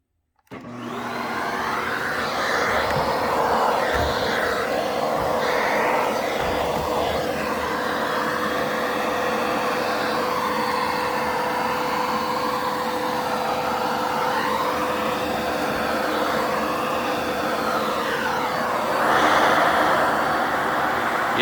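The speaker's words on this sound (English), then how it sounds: "Let me break out the vacuum so I don't make a mess of everything here." A vacuum cleaner switches on and runs loud and close while dust is cleaned out of a 1989 Zenith Space Command television, a steady whining roar whose pitch wavers as the nozzle moves.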